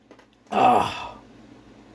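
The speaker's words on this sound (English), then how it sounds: "Sneezed." A single close sneeze bursts out suddenly, then trails off into near silence.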